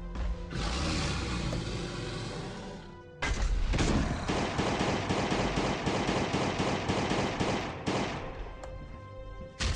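Rapid bursts of gunfire crackle in quick succession after a brief pause, dense and sustained, like automatic weapons in the video game Last Day on Earth: Survival.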